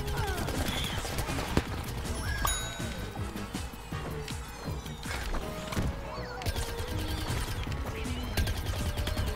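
Rapid bursts of cartoonish gunfire from the shooter game Plants vs Zombies Garden Warfare 2, dense overlapping shots with crashes and impact effects, loud and busy, continuous through the stretch.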